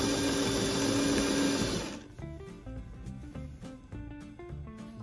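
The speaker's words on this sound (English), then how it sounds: "Now I'm going to sew up that center front seam all the way, matching my notches." A sewing machine runs at speed stitching the center front seam of a 1950s-style bathing suit, a dense steady whir for about two seconds before dropping to quieter, uneven mechanical ticking and clicks.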